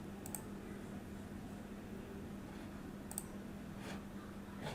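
A computer mouse on a laptop or PC gives a few crisp, close clicks spaced seconds apart over a faint steady background hum.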